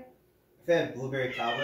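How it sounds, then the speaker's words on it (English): A cat meows in a drawn-out, whiny cry, close by, while a person speaks just before it. "So if you hear him meowing in the back,"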